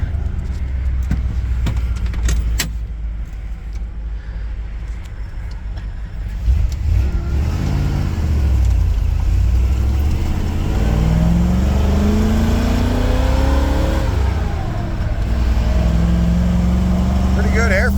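A 460 engine on stand-alone EFI runs loud and steady, then revs with rising pitch sweeps climbing through gears, with talk over it.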